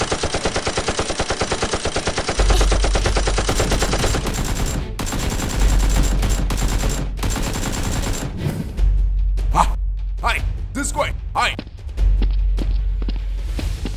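Rapid bursts of toy Nerf gun fire crackle loudly in a staged SWAT versus SEAL team battle, long continuous volleys broken by short pauses, with a few separate sharp pops near the end.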